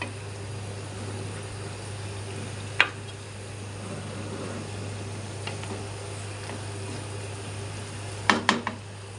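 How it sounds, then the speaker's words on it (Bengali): Vegetables for a Chinese-style vegetable dish are stirred in a pan over a low sizzle and a constant steady hum, with a few sharp scrapes and clanks of utensil against pan, including a quick cluster near the end. "এই তো সবজিটা এখন আমি ভালোভাবে নেড়ে চেড়ে নিব।"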